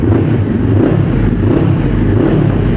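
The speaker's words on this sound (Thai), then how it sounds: "นี่ครับ รอบเดินเบา นี่อัตราเร่งคันนี้" A 2021 Honda CBR500R motorcycle with an aftermarket Akrapovic-style slip-on exhaust, its engine droning loud and close in a dense, steady roar with no clear silence, and no talking over it.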